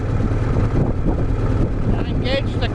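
A pony starter motor spins up a Cat D315 diesel under decompression, giving a steady, loud low mechanical drone with a rough, wind-buffeted texture that holds throughout.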